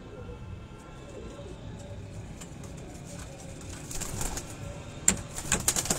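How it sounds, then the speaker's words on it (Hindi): A pigeon coos softly at a pigeon showing, low under steady background ambience, with a few sharp clicks and rustles growing louder toward the end. "इस कबूतर को देखें आप"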